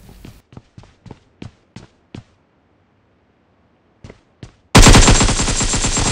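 AKM assault rifle fire in the mobile game PUBG Mobile: a string of sharp single shots, a pause, two more shots, then a loud sustained burst of dense gunfire to the end.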